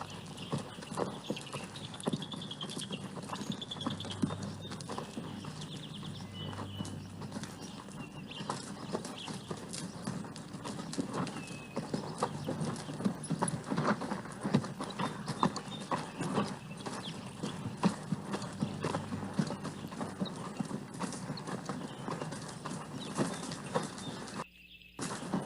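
Horses at a ranch walk in file, their hooves clip-clopping in an irregular, continuous patter at moderate distance, with faint bird sounds in the background.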